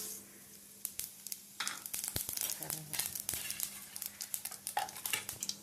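Mustard and fennel seeds crackle and pop in hot oil, with irregular sharp spluttering bursts over a soft steady sizzle, close by.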